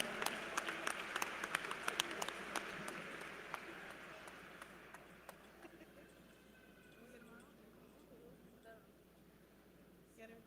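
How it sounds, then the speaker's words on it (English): Commencement audience at Tennessee State University applauds for honor students, fairly faint and distant clapping with a few sharper individual claps, fading out over the first half and leaving quiet room tone. "another rousing round of applause."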